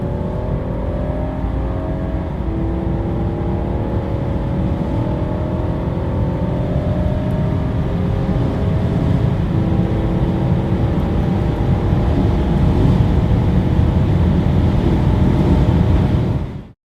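A 2016 BMW Alpina D3 Touring diesel driving at speed, a steady subdued engine and exhaust drone with gradual pitch shifts, building slightly louder before cutting off abruptly at the end.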